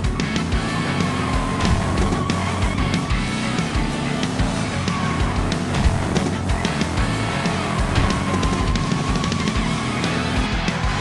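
A Hot Wheels racing video game car launching and speeding along the track, heard as a continuous dense roar of engine and game effects with busy music mixed in, loud and unbroken throughout.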